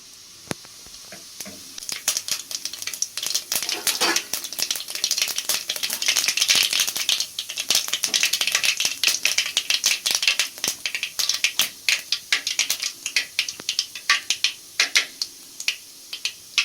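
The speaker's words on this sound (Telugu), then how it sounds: "ఆయిల్ కాగనిచ్చైతే ఆవాలు జీలకర్ర వేసుకోవాలి" Mustard seeds and cumin spluttering in hot oil: rapid irregular crackles and sharp pops that build to a dense sizzling burst, then thin into scattered snaps, close and fairly loud.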